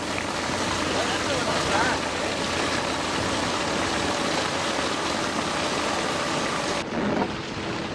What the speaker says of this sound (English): you can start filling it with water.